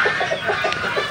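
Barako rooster clucks in a quick run of short, close, fairly loud notes.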